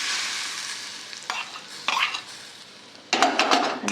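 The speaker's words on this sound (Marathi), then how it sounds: "आता ही फोडणी आपण लोणच्यावर घालू" A hot oil tempering with mustard seeds and asafoetida hits raw mango pickle in short sizzling bursts, with a quieter stretch between them and light clinks of a spoon and pan.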